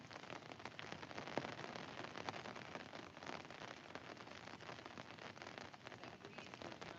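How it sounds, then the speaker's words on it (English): Steady rain falls throughout on a night of king tide while people are out fishing, a dense, even patter of drops that fills the scene with no voices and only a few faint sharper taps. "it's raining, and it's been raining"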